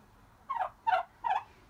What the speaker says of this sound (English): Oh, I love the noise of turkey chirps.